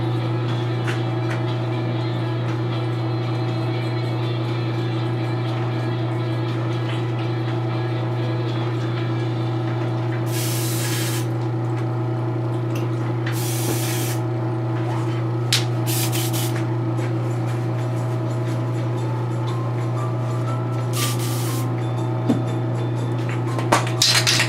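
Testors Dullcote aerosol sprays onto a painted model in four short, sharp hissing bursts, spaced a few seconds apart over a loud, steady background hum.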